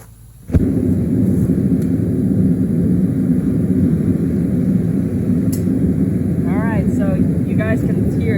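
A lit gas forge burner bursts into a loud, steady jet-like roar after a brief quiet start, holding a dense, even rush throughout with a few faint chirps near the end.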